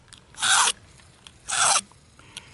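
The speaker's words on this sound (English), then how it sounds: "You'd be amazed how much of that knife blade I can take off of there in 4 minutes, running it through a cross V carbide" Butter knife drawn through a cross V carbide sharpener, two distinct rasping strokes about a second apart, close and fairly loud against a quiet background.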